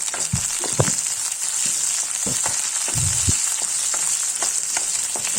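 Raw onions and green chillies fry in a pan, giving a loud, constant sizzling hiss with occasional low thumps and scrapes from stirring, close by and uninterrupted by any voice.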